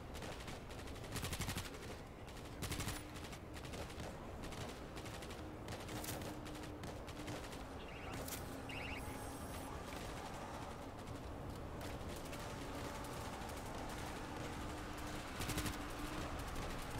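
Dense, continuous gunfire from the World War Z video game horde mode, rapid shots cracking nonstop with occasional louder bursts throughout, loud and close with no talk over it.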